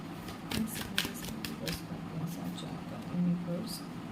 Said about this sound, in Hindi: चलिए हम कुछ जनरल कार्ड्स निकाल लेते हैं न्यूमरोलॉजी के टेक्स्ट से।